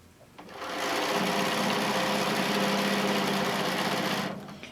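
A sewing machine stitches down a quilt border, running steadily and close for about four seconds after a brief start, its motor hum and rapid needle chatter continuous before stopping.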